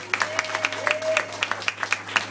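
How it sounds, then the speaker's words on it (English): Audience applause for a municipal hospital authority board at a mayoral event, a small group clapping in a fairly even, moderately loud patter over a low steady hum. "Please give them a big round of applause."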